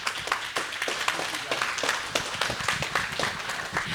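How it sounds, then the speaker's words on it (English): A church congregation claps for a missions trip recap, distinct individual hand claps forming an uneven, lively patter at close range, with some voices mixed in. "So round of applause for our church."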